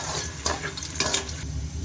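Golden fried onions stirred together with okra in a pan: a soft, continuous sizzle broken by a couple of scraping stir strokes, close but fairly quiet, no talking.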